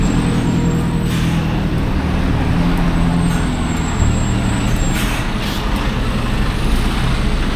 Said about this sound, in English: hell of a lot of traffic comes through here. As I said, the bulk of it are HGVs.